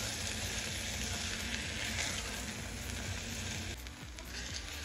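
Washed lentils fry in a pot while being stirred for lentil soup, giving a soft, even sizzle that runs steadily throughout and eases slightly near the end.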